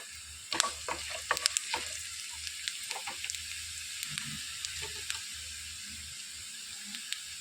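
Coriander seeds and cumin seeds dry-roasting in a heated pan, with a soft steady sizzle under scattered light ticks and scrapes as they are stirred, fairly quiet throughout.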